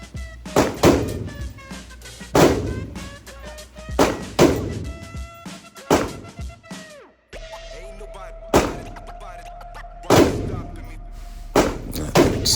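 Shots from an ATI Alpha Maxx rifle chambered in 5.56 NATO crack out one by one at an outdoor range, sharp loud reports with ringing echoes, spaced a second or two apart with a brief pause midway.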